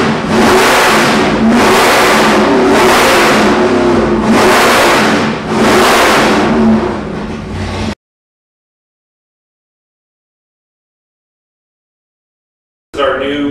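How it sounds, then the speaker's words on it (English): A 428 cubic inch twin-turbo Ford Windsor-based V8 revs loudly and close in five rhythmic surges, each rising and falling, then cuts to silence before a brief burst returns at the end. "This is our new 428 cubic inch twin turbo Ford based."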